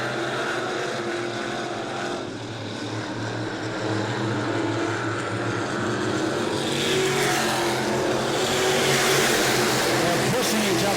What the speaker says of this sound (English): Here comes Christopher Hatton, 3 wide on the back straightaway.